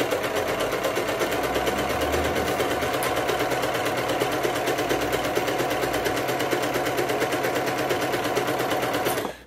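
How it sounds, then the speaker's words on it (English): A sewing machine runs a continuous seam on jersey knit fabric for a headband, a loud, close, even rapid clatter of needle strokes that holds steady throughout before cutting off at the very end. "I'm going to sew down here with the 1/4 inch seam allowance"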